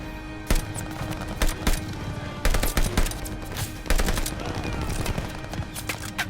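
Heavy gunfire rings out in a Call of Duty: Vanguard battle, with machine guns chattering in long bursts and loud individual shots punching through, the exchange steady and close for several seconds.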